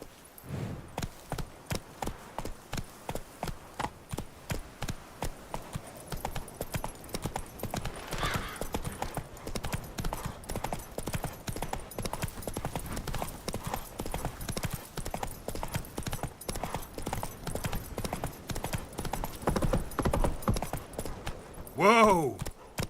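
Horse hooves clip-clop steadily at a trotting pace in The Witcher III, regular and close. A brief neigh comes near the end, over faint background ambience.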